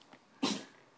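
A single short, sharp sneeze from a baby bursts out close by, trailing off quickly after a few faint breaths.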